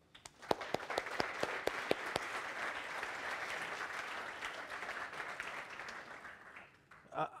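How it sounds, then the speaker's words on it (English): Audience at an aquaculture demo day in Bergen breaks into applause, with a few sharp individual claps at the start swelling into a steady crowd clapping that holds, then fades at the end. "we should give them a big round of applause"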